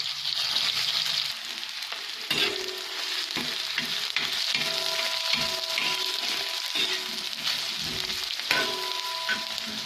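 Chopped onion fries in a pan with garlic and chilli, a bright continuous hiss of hot oil with repeated clinks and scrapes of a spatula, close and loud, no voices.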